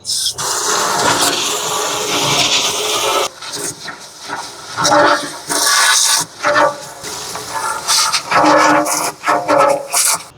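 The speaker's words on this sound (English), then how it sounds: "I will get the water hose out and spray it" A water hose sprays hard in loud hissing bursts against a metal smoker, starting and stopping several times as the stream is moved around.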